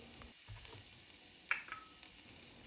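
Minced garlic sizzles quietly in olive oil in a frying pan, a soft steady hiss with one brief sharp crackle midway. No one speaks.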